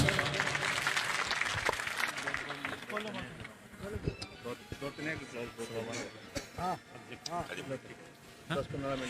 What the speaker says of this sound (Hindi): एक बार जोरदार तालियों से सलीम साहब का स्वागत